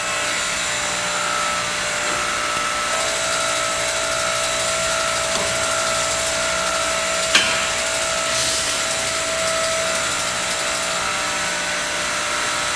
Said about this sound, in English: allow the roller to pass under the tire to the back side. Repeat the same bead loosening technique as before.